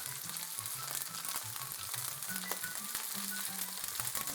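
Morel mushrooms fry in a kitchen pan, giving a steady, dense sizzle with scattered crackles and pops that runs continuously and alone, at moderate loudness.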